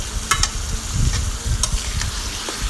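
Ginger garlic paste sizzles loudly in a pan while being stirred, with a few sharp scraping strokes over a dense, close frying hiss.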